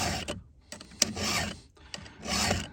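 A hand file rasps across the cutting teeth of a Husqvarna 372 XPG chainsaw chain in repeated close, gritty strokes, each swipe a short burst with brief pauses between.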